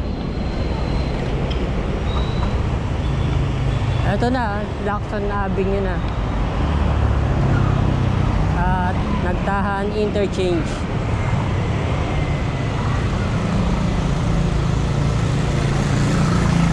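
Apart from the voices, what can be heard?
heavy road traffic in Manila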